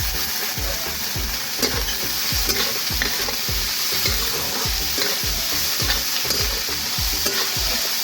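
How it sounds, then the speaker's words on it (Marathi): Finely chopped potato and onion fry in oil for poha over a wood-fired chulha, with a steady sizzle and a regular rhythm of scraping stirs close by, no one talking. "बारीक चिरून घेतलेला बटाटा घालून घेऊयात आपण या तेलात"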